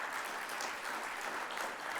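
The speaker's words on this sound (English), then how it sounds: "Give Mimecast a big round of applause." Steady, dense applause from a conference audience, sustained clapping throughout with no pauses.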